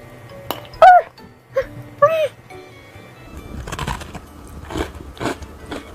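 Crisp crunching bites into a warm, flaky pistachio pie scone, followed by chewing, with a couple of short vocal exclamations close by.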